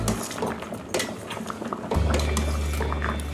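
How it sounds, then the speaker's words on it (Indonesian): Fanta soda boils in a pot, bubbling and popping as it is stirred, with a utensil scraping occasionally and a steadier rolling boil taking over partway through. "ini air fantanya sudah mendidih"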